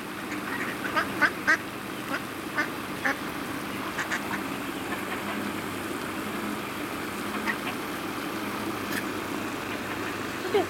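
Ducks quack repeatedly in short bursts over a steady background hum, some calls close and loud, others fainter.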